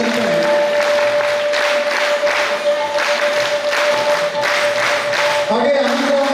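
Loud applause from a crowd at the closing ceremony of a bhajan training workshop, sustained clapping against a steady electronic hum, with a voice speaking over part of it.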